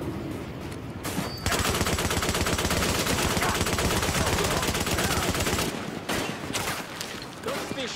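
Rapid automatic gunfire in Tom Clancy's The Division rattles loudly for several seconds in a dense, continuous burst, followed by scattered shots and game noise.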